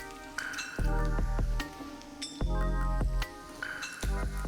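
Minced lamb sizzles steadily in a hot pan, with clinks and scrapes from stirring in repeated bursts and the sizzle swelling as the meat is moved.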